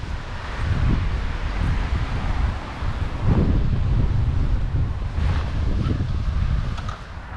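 Strong wind buffets the microphone on a golf course at Sandhill, a steady roaring rumble with gusting surges throughout, loud and close.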